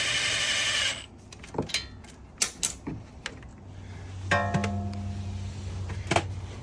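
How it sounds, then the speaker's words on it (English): Hand tools work on the brake caliper slider bolts of a Ford Bronco Badlands, giving scattered sharp metallic clicks and knocks, a brief whir at the start and a low hum later, close by with no speech. "Brake caliper off by its slider bolts now."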